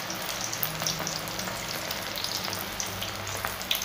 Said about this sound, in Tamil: அதனால் நல்லா சூடான எண்ணெயில் போட்டுக்கலாம்.